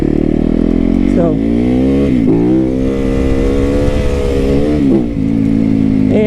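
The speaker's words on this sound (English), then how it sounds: "a lightweight adventure bike, and it's got plenty of power for what you need out here." A lightweight adventure dirt bike engine revs loudly and steadily at close range, the pitch rising and falling several times in a sustained drone.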